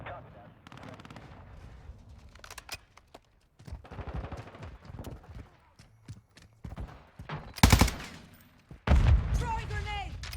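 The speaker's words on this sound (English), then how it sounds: "Taking effective fire!" Bursts of gunfire crack through a tense game firefight, sharp shots and short automatic volleys coming irregularly between quieter gaps, the loudest near the end, with voices talking and shouting in between.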